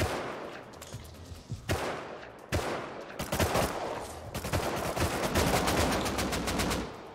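Gunfire in the video game Rust Console Edition: a few isolated shots, then rapid bursts of automatic fire that build into a dense, loud volley, with no speech over it.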